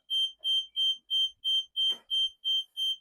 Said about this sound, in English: just going to test the RF module that it triggers the detector in the outhouse